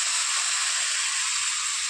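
Water added to a pan of hot oil and fish curry made with hilsa and raw banana, giving a steady, loud, even sizzling hiss that holds without a break throughout.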